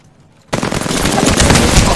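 Enemy gunfire in a video game bursts in suddenly after a brief quiet. It becomes loud, sustained automatic fire that rattles on densely without a break.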